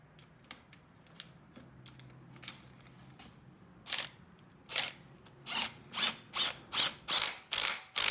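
A 3/8 ratchet wrench on a B18A1 engine build: a few sparse clicks at first, then a run of rapid, regular ratcheting bursts, close and crisp, with no voices.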